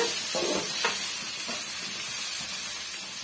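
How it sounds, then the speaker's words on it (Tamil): Tamarind sautéing in a pan with onion, garlic and tomato for a drumstick-leaf chutney, giving a continuous close sizzle and hiss with a few soft stirring scrapes and no voices. "சேர்த்துட்டு நல்லா வந்து வதக்கி விட்டுக்குங்க"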